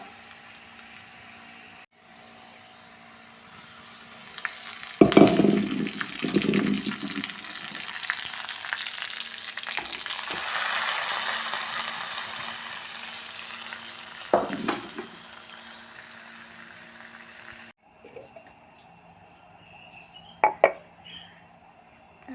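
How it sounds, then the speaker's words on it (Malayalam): Hot oil sizzles and crackles steadily as shallots, fenugreek and curry leaves hit the pan, with occasional stirring and clattering and a quieter stretch near the end. "ചെറിയ ഉള്ളി ഒരു ടീസ്പൂൺ ഉലുവ നന്നായി വറുത്ത് വേപ്പിൻ്റെ ഇല പെട്ടിട്ട് വറുത്തെടുക്കുക"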